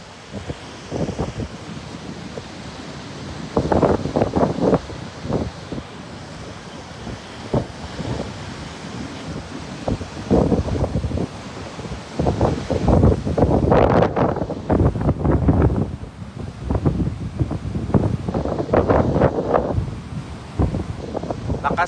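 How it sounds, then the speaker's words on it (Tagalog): Strong typhoon wind gusts in Aklan, roaring in repeated bursts against the microphone with rustling debris, loud and close, while voices talk intermittently underneath. "Lakas ng hangin na po dito sa lugar ng Tambak ni Washington."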